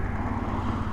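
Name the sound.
BMW R100 motorcycle engine idling at 1000 RPM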